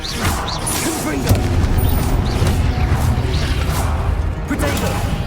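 Confringo explosive spells burst repeatedly during a Hogwarts Legacy duel. Whooshing casts and booming impacts pile over a dense rumble of combat noise, with several sharp hits scattered throughout.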